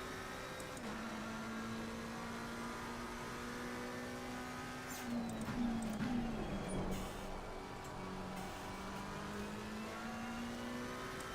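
Race car engines drone steadily in a sim racing game at Watkins Glen, with rising and falling engine pitch and a louder stretch midway as other cars rush past, all fairly faint and without talking.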